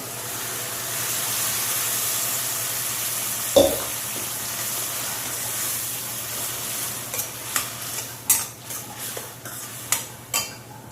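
Onions and blended tomato sizzle steadily in a hot pan, with a spoon scraping and clinking against the metal several times toward the end.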